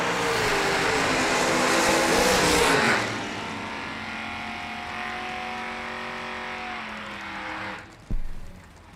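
Dragster race cars at a drag race roar loudly at full throttle for about three seconds, then a lower engine drone continues with whining tones, ending with a sharp burst near the end.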